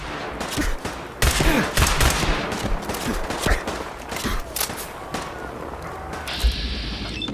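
Rapid bursts of gunfire in Fallout 4, fired at tough butcher enemies, crackling in dense volleys through the game's ambient soundscape, pausing briefly and resuming, with no talk.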